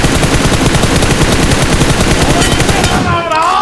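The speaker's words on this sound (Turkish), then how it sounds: "İsterseniz uzaktan sıkayım." Gunfire in the mobile game PUBG Mobile: a loud, rapid stream of automatic shots rattles steadily, then cuts off near the end.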